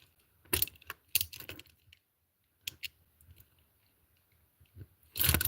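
Aluminum handcuffs being lock-picked give off scattered sharp metallic clicks, taps and scrapes in small clusters with quiet gaps between them, ending in a louder rattling burst.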